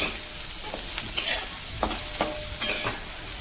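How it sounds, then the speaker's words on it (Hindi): Vegetables including carrot frying in a pan for wheat-flour white sauce pasta, a soft steady sizzle broken by several sharp spatula scrapes and stirs, with no talking. "इसको मैं 2 मिनट और फ्राई कर लेती हूँ।"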